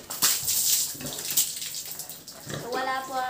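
Water poured by hand over a pig named Dabing for a cooling bath on a backyard pig farm, splashing in uneven bursts, with a brief trickling stream near the end.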